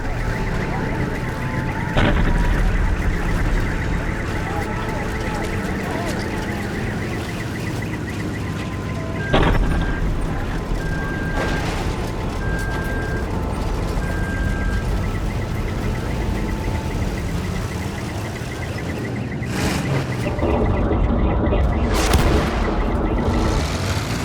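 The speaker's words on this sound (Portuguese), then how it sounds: "Só dá para ouvir o barulho e o alarme de ataque aéreo" An air raid siren wails steadily over a dense, continuous roar of rumbling booms and low thuds, with sharp impacts at intervals and heavier bursts near the end, from strikes in the Kursk region.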